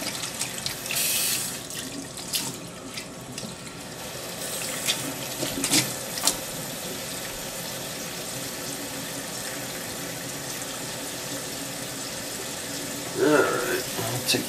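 Tap water runs steadily into a kitchen sink over a turkey set to thaw, a constant splashing rush with a few louder clatters and splashes along the way.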